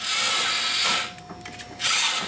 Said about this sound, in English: I'm going to run one more screw right there.